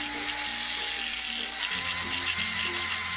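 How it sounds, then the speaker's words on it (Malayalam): Butter and icing sugar being creamed with an electric hand mixer for a Swiss roll filling, a close, continuous buzzing whir with slight pitch changes as the beaters work through the mixture. "ഇതിലേക്ക് ഈ എടുത്തു വച്ചിരിക്കുന്ന ബട്ടറും ഐസിങ് ഷുഗറും കൂടി ഇട്ട് ബീറ്റ് ചെയ്ത് കൊടുക്കാം."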